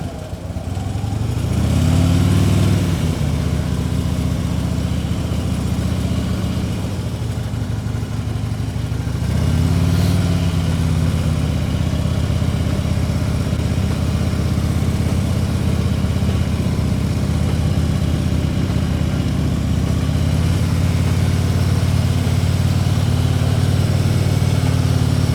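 A motorcycle engine idles and putters through a slow-ride practice exercise, with its pitch rising in several gentle throttle swells as the bike creeps along at low speed, steady and fairly close throughout.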